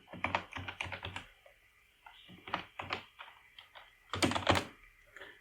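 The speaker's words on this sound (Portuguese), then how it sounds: "vou acessar ele e digitar a senha" Fingers typing a password on a computer keyboard, quiet uneven bursts of key clicks close by, with a quicker louder cluster of keystrokes near the end.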